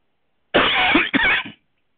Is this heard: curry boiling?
no